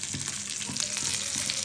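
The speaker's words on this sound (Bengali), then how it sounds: "এই যে আমার মাছ ভাজা" Pieces of pangas fish fry in hot oil in a pan, a soft, continuous sizzle with light clinks of stirring, heard close and alone.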